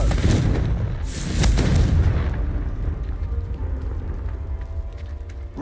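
A deep, booming fire-spell blast erupts in the Hogwarts Legacy game, a loud explosive burst followed by a second impact about a second later, then a rumbling decay fading out alone with no talk.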